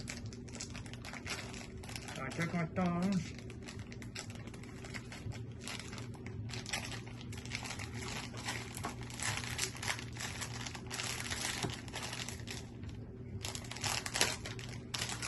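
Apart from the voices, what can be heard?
plastic cheese slice package being torn open by biting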